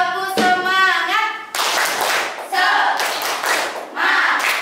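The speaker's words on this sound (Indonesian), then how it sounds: "Oke, tepuk semangat." Schoolchildren in a classroom perform a rhythmic spirit clap, bursts of claps in a patterned beat broken by loud, sung chanting voices.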